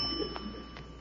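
One short, thin doorbell ring sounds in an old-time radio drama, a single faint electric tone that holds briefly with no repeat.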